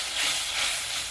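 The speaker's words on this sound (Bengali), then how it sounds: "একটু জল দিয়ে দিলাম, মশলাটা" A splash of water meets frying spice masala, sending up a brief, steady hiss of steam and sizzle up close.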